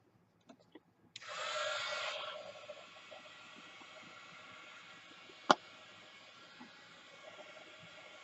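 Handheld dryer blowing to dry paint on envelopes, a soft steady whoosh that starts abruptly, swells briefly, then runs quieter and constant, with a single sharp click midway.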